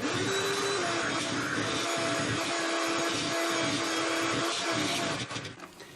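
An electric hand mixer whirs steadily as it churns cream into truffle butter, a loud continuous motor drone that holds for about five seconds before wavering and easing off near the end.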